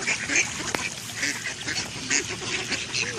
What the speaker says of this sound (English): Baby ducks.